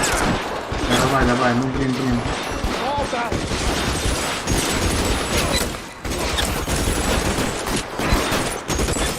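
Thompson submachine gun fire in the L.A. Noire game, crackling in loud bursts through a busy firefight with other gunfire, while someone talks and shouts briefly over it.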